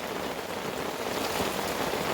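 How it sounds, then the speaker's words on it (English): Hard, heavy rain in eastern North Carolina pours down steadily on a camp with tarps strung up, an unbroken loud hiss of drops filling the whole stretch with no talking. "Got a hard, heavy rain here in eastern North Carolina."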